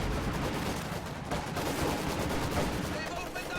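Rapid gunfire and machine-gun bursts crackle through a dense, continuous video game battle din, with field guns booming and Maxim guns firing under it.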